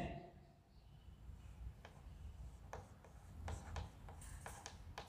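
A pen writes a report by hand on paper, quiet close scratching strokes with short pauses between bursts, faint and intimate, with a soft background hum.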